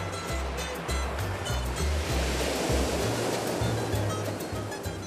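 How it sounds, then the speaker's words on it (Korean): Ocean waves breaking on a surf beach in El Salvador, a steady wash of rushing surf with low rumbling swells rolling under the spray, fairly close and continuous with no voices. "제 열정과는 다르게 무심한 파도입니다."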